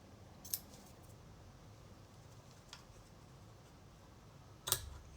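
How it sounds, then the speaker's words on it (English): Scissors snip ribbon ends at an angle: a few quiet, isolated cuts spaced seconds apart against a soft, steady room background. "I'm going to take my ends and I'm going to cut them at an angle."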